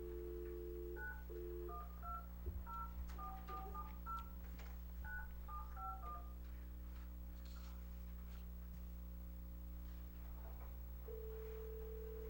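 Touch-tone DTMF beeps dial a speakerphone call during a city council meeting, a quick run of distinct tone pairs in irregular rhythm, followed by a steady dial tone over a constant room hum.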